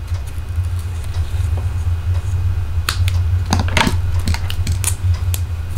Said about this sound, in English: And then I'm going to snip.